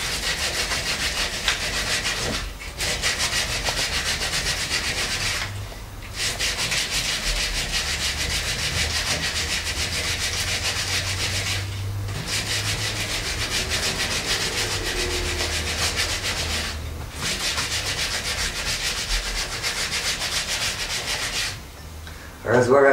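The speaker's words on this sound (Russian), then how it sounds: "Сравниваем овал с наждачкой." Wooden screw blank rubbed with loose sandpaper, a steady continuous scratchy sanding stroke running close and loud, broken by a few brief pauses.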